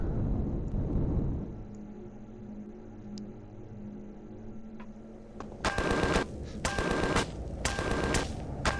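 A ship turret firing in Empyrion Galactic Survival, rapid loud bursts of automatic gunfire that start partway through and come in several clustered volleys over a low engine drone.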